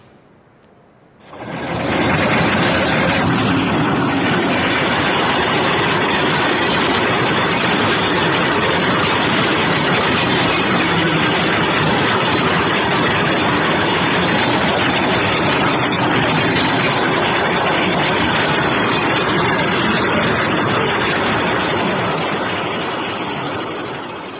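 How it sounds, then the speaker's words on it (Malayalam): A runaway train travelling without a loco pilot roars past in a loud, unbroken rumble of engine and wheels on rails, starting abruptly after a short quiet lead-in and holding steady. "ഓടുന്ന ആ തീവണ്ടി കാണാം"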